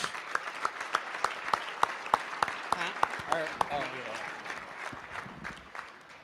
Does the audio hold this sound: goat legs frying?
no